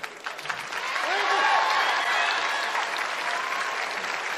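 A theatre audience at a stand-up comedy show breaks into applause, building from scattered claps into a sustained, fairly distant wash of clapping with faint crowd voices.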